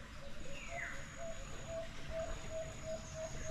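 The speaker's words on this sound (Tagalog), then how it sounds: "Ang daming ibon." Birds chirp in short repeated notes at an even rhythm, set against a low outdoor background hum.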